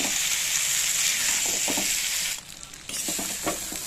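Spice mix sautéing in a pan for an egg and masoor dal dish, a loud steady sizzle that drops briefly as it is stirred, then resumes with scraping strokes.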